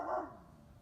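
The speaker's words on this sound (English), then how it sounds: "And we can hear the neighbor's dog." A neighbor's dog gives a single bark on a farm animal rescue property, heard alone and somewhat distant, fading quickly within under a second.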